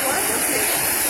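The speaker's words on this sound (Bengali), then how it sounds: "এই যে পানি ছাড়ছে প্রত্যেক দিনই টাইম টু টাইম পানি ছাড়ে 3 বেলা।" Water pouring out from a filtration plant that supplies drinking water in a village, a steady, loud, broadband rushing roar like a waterfall that continues unbroken throughout.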